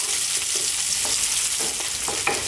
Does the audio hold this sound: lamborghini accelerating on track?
no